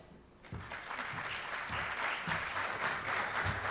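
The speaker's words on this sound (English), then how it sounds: "please give a round of applause" Audience applause at a business breakfast during a legislative summit, a sustained clapping crowd in a large room that swells up after a brief quiet start and continues steadily.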